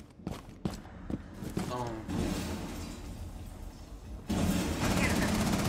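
Gunfire in a ranked match of the video game Rainbow Six Siege: several sharp shots and bursts early on, then a sustained barrage near the end, with players talking over it.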